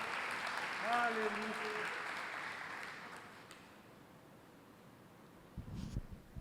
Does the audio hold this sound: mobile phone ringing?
no